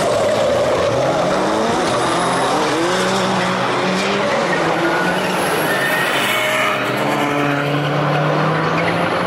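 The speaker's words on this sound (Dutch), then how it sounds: "Maar de Peugeot van Payet lijkt me dan wat beter te remmen." Peugeot rally cars from the 2009 European Rally Championship race past on a closing lap, with engines roaring and tires squealing under hard braking. The sound is loud and continuous throughout.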